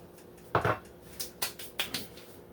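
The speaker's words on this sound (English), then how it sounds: "I'm just going to stir this around" A utensil scrapes and knocks in a pan of sausage and pumpkin pasta sauce as it is stirred, a handful of separate clacks and scrapes spaced irregularly over a quiet background, with no voices.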